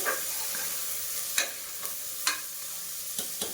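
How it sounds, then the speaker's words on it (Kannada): Avare beans fry in oil with onions in a pan, giving a steady sizzle under several sharp scraping stirs of a spoon, close and clear, with no talking. "ಕಾಳನ್ನು ಎಣ್ಣೆನಲ್ಲೇ ಈ ರೀತಿ ಫ್ರೈ ಮಾಡ್ಕೋಬೇಕು."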